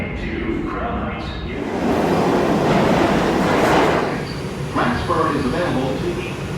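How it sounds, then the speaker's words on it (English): A New York City express 4 subway train bound for Crown Heights rumbles loudly and steadily, swelling to a peak mid-clip with rail clatter and a brief screech near the end, while a voice talks faintly underneath. "Express 4 train to Crown Heights."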